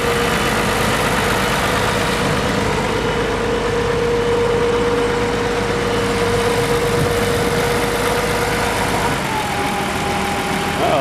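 Wide-front vintage International Harvester 14-series tractor at a Red Power Round Up show, its engine a loud, steady drone close by, running continuously before tapering near the end.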